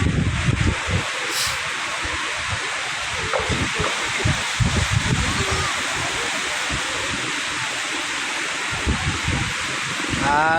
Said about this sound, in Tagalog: Medyo malakas po kasi ngayon ang hangin dito